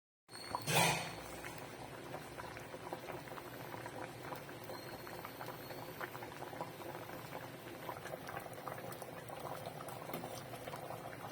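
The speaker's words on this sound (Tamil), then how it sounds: "முட்டை வந்து குழம்பு கொதிச்சிருச்சு" Steady bubbling of egg curry boiling in a pot on the stove, close and continuous, with a brief clink near the start.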